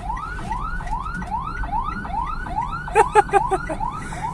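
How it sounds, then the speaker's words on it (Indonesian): An ambulance's wailing siren sweeps up and down repeatedly as it passes on the road, fairly loud over road and engine rumble, with a few sharp horn-like bursts near the end. "Ada ambulan lagi ya."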